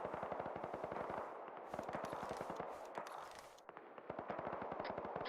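Sustained machine gun fire in the military game Arma, rapid evenly spaced bursts of shots heard at a moderate distance, continuous through the clip with a short gap near the end.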